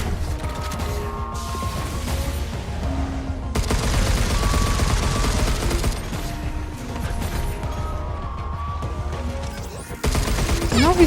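Gunfire in the video game Pragmata, dense bursts of rapid shots and mechanical clatter layered over game music, loud and continuous throughout.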